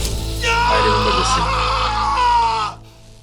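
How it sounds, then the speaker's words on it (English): A loud, sustained scream from a character in an animated Watchmen film scene about Rorschach rises sharply, holds strained and raw for about two seconds, then cuts off abruptly into quieter background. "Man, that scream though."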